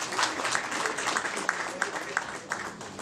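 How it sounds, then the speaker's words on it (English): A round of applause for Mr. Mawere at a trade fair launch event, steady crowd clapping with a few sharper individual claps standing out, moderately loud and continuous, with some speech mixed in. "Please give him another big round of applause"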